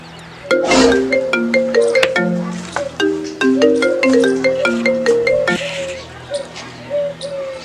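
A phone ringtone plays loudly and close, a bright electronic melody of repeated tones in two bursts, with a voice briefly heard under it.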